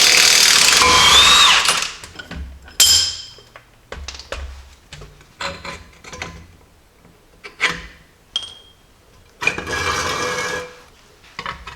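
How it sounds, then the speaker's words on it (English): Impact gun working a Jeep lower control arm bolt: a long loud burst of whirring hammering, then several short rattling bursts and clanks separated by pauses. "we can put our impact gun on the back side"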